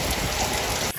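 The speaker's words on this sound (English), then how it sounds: "It was heavy rain at first" Heavy rain pours down steadily in Sri Lanka, a dense, close wash of drops that runs without a break until it cuts off abruptly at the end.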